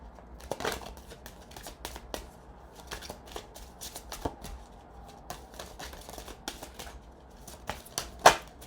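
An oracle card deck is shuffled by hand with soft, continuous rustling and scattered light taps and flicks, quiet and close, with a sharper snap near the end.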